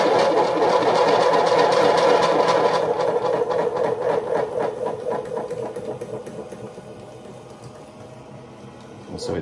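A chattering tool trims clay on a spinning pottery wheel, making a steady rapid buzzing rattle that is loud and close at first, then gradually softens and thins out toward the end.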